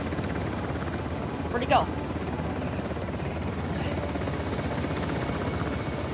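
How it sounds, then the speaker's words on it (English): Helicopter from the Uncharted: Lost Legacy video game, a steady broadband rotor drone running throughout, with someone talking over it. "Is the chopper gonna see me?"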